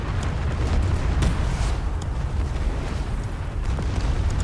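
Loud, dense rumbling explosions from friendly fire by a grad rocket technical in a large fort assault video game, with sharp bursts over continuous low booming and no speech.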